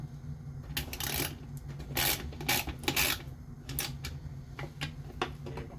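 A screwdriver and a 10mm socket tighten the mounting bolts of a snare drum, giving a series of close ratcheting clicks and metallic scrapes in irregular bursts over a low steady background hum.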